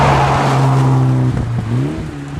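A tuned Mitsubishi EVO X on a road, engine revving loud and close with a strong droning note that climbs, drops as the gears change, then pulls up again.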